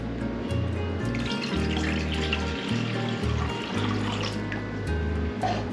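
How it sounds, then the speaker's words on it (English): Tap water pours into a cooking pot for simple syrup, a steady splashing rush that carries on throughout under a low, pulsing hum, with no one speaking. "get started by getting your water in your pot or your pan"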